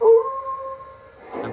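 A short, tonal howl from a werewolf sound effect on a Lionel Legacy Halloween F-19 4-6-2 Pacific toy steam locomotive, a single sustained wavering note that fades, followed by a faint clatter.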